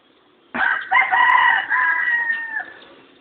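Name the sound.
chicken crowing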